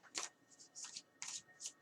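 Tarot cards are shuffled by hand in several quick, close riffling bursts separated by short pauses, with no talking.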